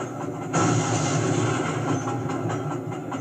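An Iron Horse train running in the Sly 2 video game, a loud continuous rumble of wheels and carriages that kicks in sharply after a brief quieter moment and keeps rolling steadily.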